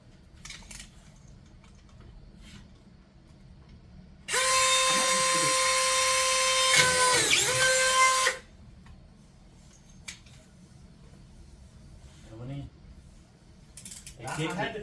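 A screw gun rated 2500 for decking and fencing drives a screw into fence material in one loud, steady whirring burst of about four seconds, with a brief dip midway, set between quieter stretches of handling.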